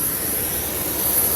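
Steady jet airplane engine roar heard while boarding a plane, a broad continuous rushing drone with no breaks, fairly loud and alone.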